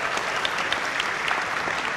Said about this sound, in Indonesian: memberikan apresiasi tepuk tangan kepada seluruh calon presiden yang